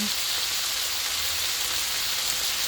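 Vinegar hits a vegetable stir fry in a hot pan, giving a loud, steady hiss and sizzle that fills the whole moment close up, with no talking.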